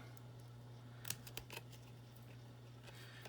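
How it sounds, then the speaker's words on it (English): Scissors snip triangles out of cardstock in a quiet room, with a few quick, crisp cuts clustered together over a faint steady electrical hum. "We're gonna cut triangles out of it."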